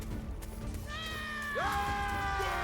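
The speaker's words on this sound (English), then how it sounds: "Cat." A cat meows in a drawn-out, slightly wavering call that rises then settles, fairly close and clear over quiet background noise.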